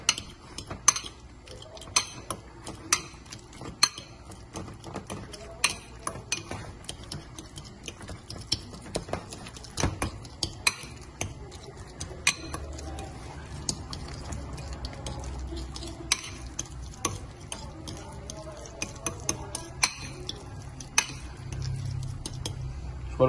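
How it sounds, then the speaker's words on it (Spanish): Ripe plantain purée mashed with butter produces irregular clicks and taps of a utensil against a bowl, with soft, wet squishing underneath, steady and close for over twenty seconds. "aquí majamos nuestro puré con un poco de mantequilla"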